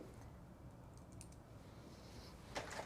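Quiet typing on a computer keyboard during a Cricut card-crafting session, faint soft key taps with a brief cluster of sharper clicks near the end, no voices.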